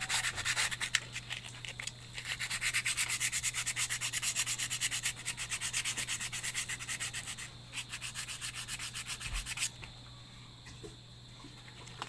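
A steady scrubbing of a brush over a part of a Makita impact drill during repair, rhythmic and close, with a constant low electrical hum underneath and the strokes easing off near the end.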